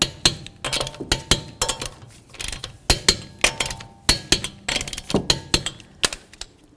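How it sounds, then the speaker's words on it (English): Torque wrench tightening wheel lug nuts on a 2014-16 Toyota Corolla, sharp metallic clicks in quick irregular bursts, close and crisp with quiet gaps between. "Let's torque these in a crisscross manner."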